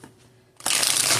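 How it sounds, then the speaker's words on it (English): A deck of playing cards is shuffled once: after a quiet moment, a short, crisp riffle bursts out up close and runs to the end. "One more shuffle with this deck and then we'll get into it"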